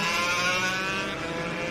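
A racing motorcycle on the Rowrah Circuit in Cumbria holds a steady high-pitched engine whine as it accelerates out of a turn, buzzing loudly and continuously with no talking.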